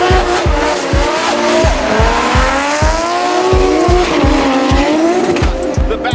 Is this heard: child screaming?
no